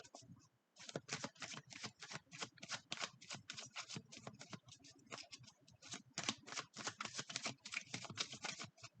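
A tarot card deck is shuffled close by, a steady run of quick, crisp riffling clicks and flutters that continues almost without pause.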